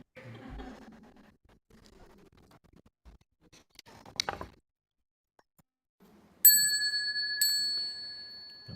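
A bright metal bell rings twice during a Guan Yin Dharma ceremony, each strike clear and sustained with a long ringing decay, following quiet rustles and faint murmurs.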